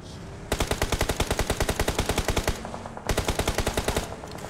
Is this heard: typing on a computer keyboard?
no